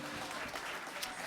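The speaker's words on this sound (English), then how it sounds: "Can y'all please stand so that we can give you a round of applause?" An audience applauds editors who stand to be recognized, steady dense clapping from a room full of people, continuous and moderately loud throughout.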